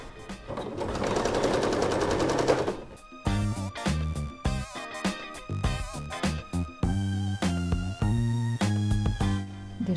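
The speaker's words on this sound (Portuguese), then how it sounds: "Vou costurar essa parte para depois posicionar a outra" Sewing machine stitching a seam on a Glória handbag, running in loud bursts: a long continuous stretch of stitching, then a series of shorter starts and stops with brief pauses between, close to the mic.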